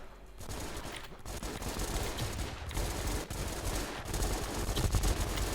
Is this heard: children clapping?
no